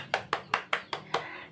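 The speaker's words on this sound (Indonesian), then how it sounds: "oke, tepuk tangan untuk kita semua." A class clapping together in a classroom: five crisp, evenly spaced unison claps in a quick rhythm, moderately close.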